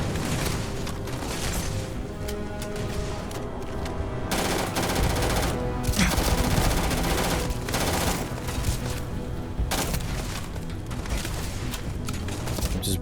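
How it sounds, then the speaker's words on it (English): Sustained automatic gunfire from the space game Starfield, dense rapid bursts blending into a loud continuous barrage for the full stretch, with no talk. "I'm just blowing bullets now"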